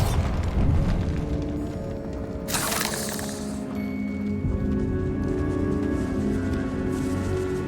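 A Bombarda explosion spell cast in the video game Hogwarts Legacy inside a decaying catacomb, one sharp blast with a crackling burst near the middle over a rumbling backdrop of game sounds, with no talking.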